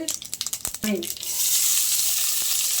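Mustard seeds, cumin and fennel sizzling in hot oil, starting with a quick run of sharp popping crackles, then settling into a steady loud hiss of frying up close, with a brief voice early on.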